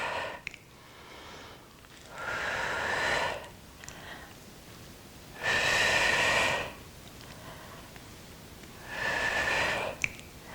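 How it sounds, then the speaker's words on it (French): Deep breaths during a gentle resistance-band strength workout, with three long, loud, airy breaths spaced a few seconds apart and quiet between them, close and with no talking. "Inspire, expire."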